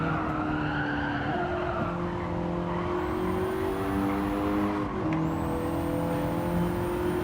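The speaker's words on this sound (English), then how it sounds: "That's proper drifting." A car drifts in Gran Turismo 7, its engine droning steadily while sustained tire squeal rises and shifts pitch throughout, loud and continuous with no talk over it.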